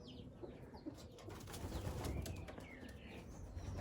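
Racing pigeons coo softly in a loft, with bursts of wing flapping and scattered calls, moderately close over a steady low background rumble.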